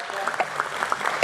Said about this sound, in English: So let us have a resounding of claps